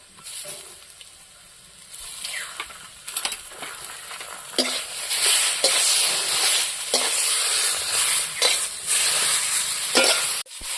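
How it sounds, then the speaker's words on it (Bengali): Onion paste and cumin paste sizzle in a hot pan while being stirred for a fish curry, with steady frying hiss and repeated scraping strokes of the spatula. "এখন আমি বাটা পেঁয়াজটা দেব"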